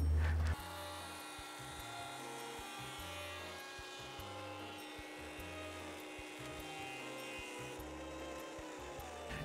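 A thickness planer feeds thin wood stock through its cutterhead, a steady loud machine roar with grinding, rasping texture that holds for nearly ten seconds after a brief quieter start, with no talking.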